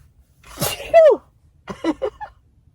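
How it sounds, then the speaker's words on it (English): One sharp sneeze bursts out, loud and close, followed by a short breathy vocal sound a moment later. "I think I'm going to sneeze."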